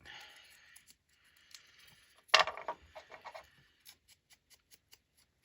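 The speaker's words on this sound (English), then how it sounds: "I'm going to uncrumple it." A crumpled paper tarot card being smoothed out by hand, giving faint, sparse crinkles and one louder burst of crackling paper near the middle, then small separate rustles, with no speech.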